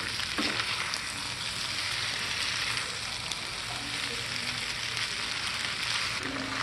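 Chicken sausage pasta being stirred in a hot pan gives a continuous dense sizzle with faint occasional scrapes, steady and close throughout with no speech.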